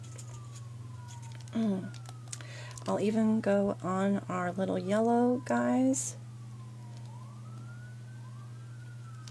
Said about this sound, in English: Oh, I hear some sirens outside.